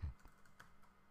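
Quiet, rapid clicking of computer keyboard keys as code is typed, a short burst of soft taps close by.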